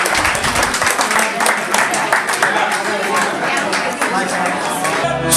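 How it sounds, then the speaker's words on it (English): Audience applause at a celebration of life ceremony: dense, sustained clapping from a crowd with chatter mixed in, steady and fairly loud throughout before tapering at the very end. "Give yourselves a round of applause."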